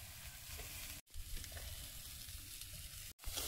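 Vegetables fry in a pan with a steady, close sizzle and crackle, broken by two brief silent gaps.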